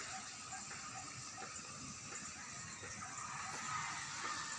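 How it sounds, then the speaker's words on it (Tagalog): A small mountain stream in Cebu, a faint steady rush and gush of flowing water heard from nearby without pause. "Yan ang maliit na sapa"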